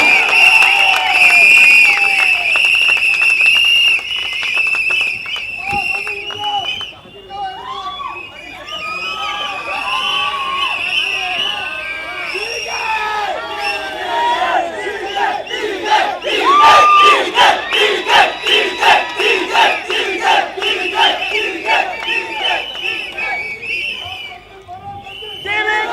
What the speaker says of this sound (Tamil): ஒரு பெரிய கரகோஷத்துடன் அவர்களை அழைக்கிறேன்.